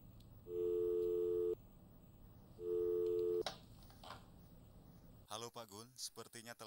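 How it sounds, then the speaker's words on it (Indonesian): A telephone busy signal sounds as two steady, clear tone bursts of about a second each, followed by speech. "Soalnya dari tadi nadanya sibuk terus."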